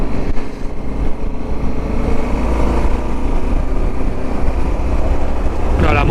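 A motorcycle engine runs steadily at high altitude on a mountain pass in Jujuy, Argentina, its dense low rumble mixed with wind noise, loud and close throughout without clear rev peaks.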